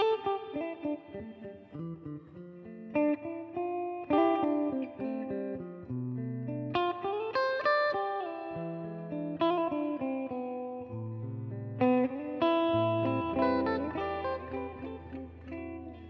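A Relish Jane electric guitar with the tone control rolled down plays a winding melodic phrase with a softer, darker tone, notes sustaining and overlapping, no voices.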